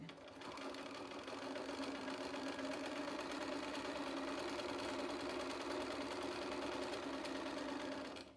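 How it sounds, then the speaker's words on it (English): A sewing machine runs steadily, top stitching along the edge of a fabric mask, its motor humming in a continuous even whir with a fast mechanical rattle, starting and stopping cleanly. "Basically, I just line it up with the edge of my footer and start top stitching."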